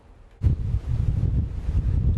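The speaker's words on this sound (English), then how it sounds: "It's really windy out here along the Winona Beach Estates" Strong wind buffets an outdoor microphone along Winona Beach Estates in Bay County, a loud low rumble of gusts that begins abruptly and holds steady throughout, with no one speaking.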